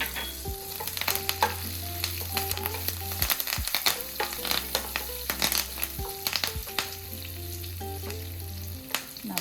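Cashews and curry leaves fry in hot oil with turmeric and asafoetida, giving a continuous bright sizzle broken by frequent sharp clicks and scrapes of a spoon stirring the pan, close and fairly loud, with no speech.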